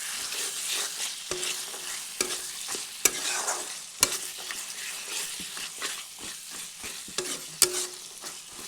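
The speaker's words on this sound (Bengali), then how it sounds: "ভেজে নিচ্ছে কিছুক্ষণ।" Green peas frying with spices in a pan for matar paneer: a steady sizzle broken by repeated scraping and clacking strokes as the mixture is stirred, all close and without talk.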